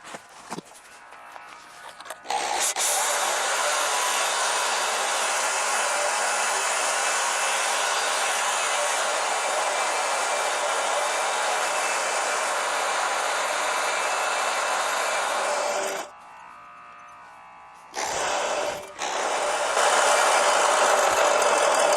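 Reel mower blades being lapped give a loud, steady grinding whir close by, running unbroken for long stretches, then briefly dropping out and starting up again.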